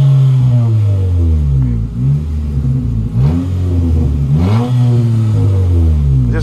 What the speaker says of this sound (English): I'm over here revving my engine.